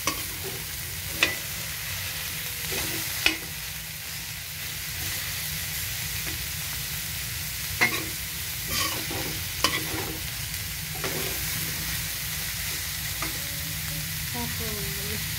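Pansit gisado with celery being stirred in a hot pan, a steady close sizzle broken by occasional sharp scrapes and clanks of the utensil against the metal.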